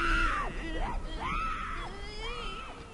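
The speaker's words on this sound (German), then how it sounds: "Ich höre sie zwar schreien" Burning infected enemies in The Last of Us scream and wail in drawn-out, rising and falling cries that repeat three times across the clip, loud and close with game noise underneath.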